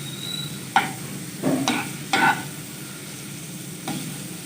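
Garlic frying lightly in a few spoonfuls of oil, a soft steady sizzle with a few sharper clinks and scrapes of a spoon stirring in the pan, no talking.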